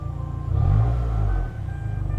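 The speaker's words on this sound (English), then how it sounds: "Do a rev. That's how it sounds stock." A Subaru WRX on its stock exhaust gives a single low, muffled rev that swells for about a second and settles back to a deep idle rumble, close by.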